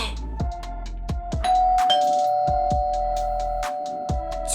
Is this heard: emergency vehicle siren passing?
no